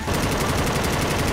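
Rapid automatic gunfire in Left 4 Dead 2, a dense, continuous burst of close, loud shots rattling steadily without a pause.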